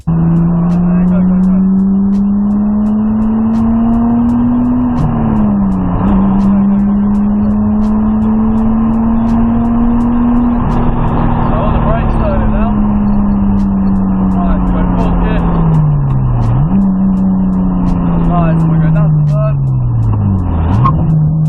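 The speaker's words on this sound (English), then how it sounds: "I'm not sure if you can hear the engine, but take a listen." A Nissan Skyline R34 GTR engine heard from inside the cabin, a loud steady drone whose pitch climbs and drops sharply with each gear change.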